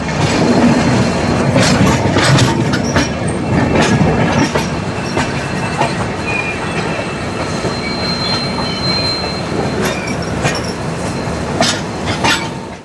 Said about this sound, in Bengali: জয় জগন্নাথের নাম নিয়ে আমাদের ট্রেন ছেড়ে বেরোলো পুরী থেকে শালিমারের পথে।